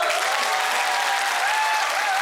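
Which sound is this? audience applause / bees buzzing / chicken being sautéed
audience applause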